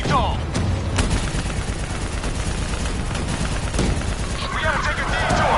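Dense gunfire in Call of Duty Black Ops 3 rattles loud and close, with sharp shots and bursts cracking through a steady battle din while voices shout over it.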